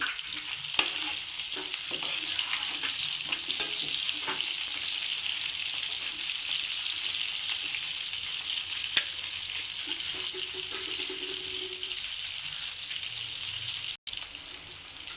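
Ingredients stir-fry in a pan for an amaranth-leaf fry: a dense, steady sizzle runs throughout, with occasional light clicks and scrapes and a brief dropout near the end. No one speaks.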